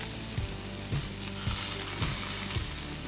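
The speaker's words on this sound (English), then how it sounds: "After I put the kebabs on the grill, I start hydrating them." Steak and shrimp kebab skewers sizzle on a grill with a loud, steady crackling hiss, close up, with a few soft rhythmic thumps underneath and no talking.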